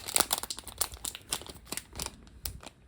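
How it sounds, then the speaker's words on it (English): An old LEGO minifigure pack of stiff plastic is crinkled and torn at, giving irregular close crackles and rustles in quick bursts, fairly quiet, with no talking. "These old minifigure packs are really hard to open, aren't they?"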